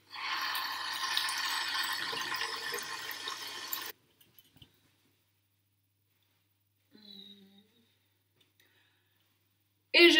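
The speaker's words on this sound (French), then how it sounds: "je replonge la tête dans le lavabo" Water running steadily into a bathroom sink for a few seconds as someone rinses their face, then cutting off, followed by a few faint splashes and small knocks.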